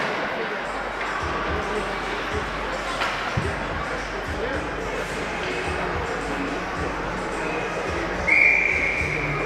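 A referee's whistle blows sharply near the end of a varsity ice hockey game against Winona, cutting over steady crowd and rink noise while a commentator talks throughout.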